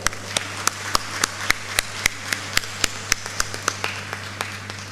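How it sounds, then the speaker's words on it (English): Scattered, sparse claps from an audience at a school felicitation ceremony honouring the school magazine team, evenly spaced sharp hits over a steady low hum, with no talk. "giving them a well-deserved round of"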